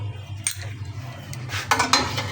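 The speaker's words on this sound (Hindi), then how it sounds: "हल्का हल्का हम इसमें ये अपना चम्मच चलाते रहेंगे।" A spoon stirs full-fat milk in a pot for sheer khurma, giving soft scraping clinks against the metal over a steady low hum, with a few louder scrapes near the end; no talking.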